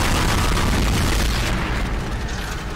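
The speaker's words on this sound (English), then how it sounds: "I'm shooting everything in there." Booming weapon blasts in Dead Space, a dense, loud rumbling barrage with heavy low-end that stays near and continuous, fading slightly toward the end, with no talking over it.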